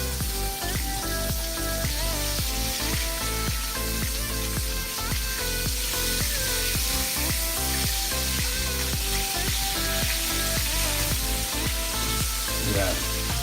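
A flipped pork chop fries in butter in a pan, giving a steady, close sizzle that crackles evenly for the whole span over a constant tonal background.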